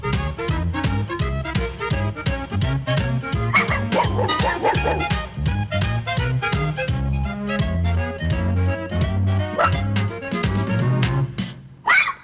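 A little puppy yips and barks in rapid, high-pitched bursts, close and repeated across the whole stretch, with occasional whimpers mixed in.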